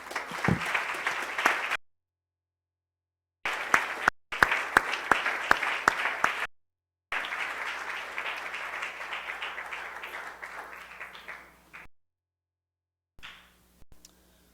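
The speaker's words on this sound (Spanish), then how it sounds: "Un aplauso al Señor" Church congregation applauding during a service: bursts of crisp, sharp clapping that cut in and out with silent gaps, then a longer softer wash of applause fading away, with a few stray claps at the end.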